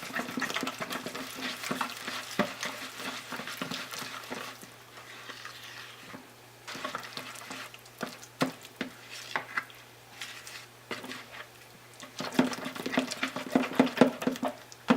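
Garlic chive cracker ingredients being mixed in a bowl, with a steady scraping and tapping of a utensil against the dish and a low hum in the background, close and fairly loud with no talking.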